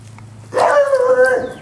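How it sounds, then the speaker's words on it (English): Puppies let out a short, close, high-pitched bark or yip that ends in a brief whine, with no other sound around it. "Oh, those puppies."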